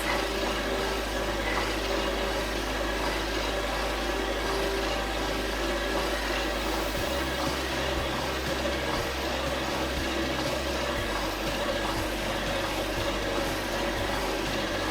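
A Power Plate vibration platform hums steadily, loud and continuous, its low drone shifting slightly in pitch partway through, with no talk.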